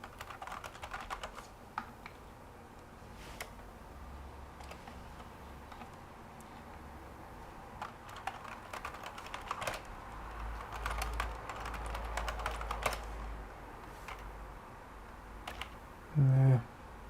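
Someone types on a computer keyboard during a disk encryption setup on a PowerPC64 system, giving a quiet, fairly close run of irregular key clicks with short pauses and bursts, with no talking.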